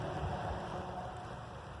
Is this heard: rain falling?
yes